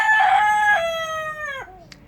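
A Silkie rooster crows loudly and close by, one drawn-out cock-a-doodle-doo that trails off, followed by a brief faint cluck.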